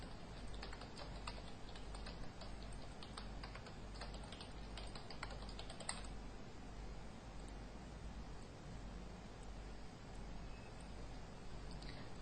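Keys on a computer keyboard tap in quick irregular clusters during design work in CorelDRAW, faint and close, with the typing thinning out after the first half.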